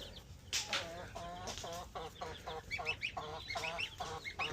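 A goose honks repeatedly in a renovated poultry house shared with laying hens, Muscovy ducks and a rooster, loud nasal calls in quick succession with clucking around them.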